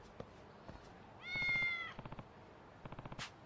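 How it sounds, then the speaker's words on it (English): A cat gives one clear, fairly quiet meow near the middle, surrounded by faint soft ticks and rustles in an otherwise quiet outdoor setting. "Not that we need to become friends with a cat back here"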